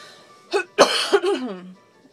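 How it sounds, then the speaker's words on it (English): A few short, raspy coughs from a person, close and dry, coming in quick uneven bursts. "That was a cough, sorry."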